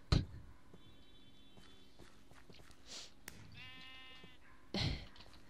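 Sheep bleating in Minecraft, two distinct harmonic bleats a couple of seconds apart, moderately close, with footsteps, clicks and thuds scattered around them and no talk.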